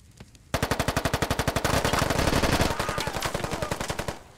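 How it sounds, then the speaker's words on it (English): Rapid automatic gunfire in the military shooter game SquadOps, a loud, close sustained burst of evenly spaced shots lasting several seconds. "Oddball puts a bullet into both Bartok and Appa"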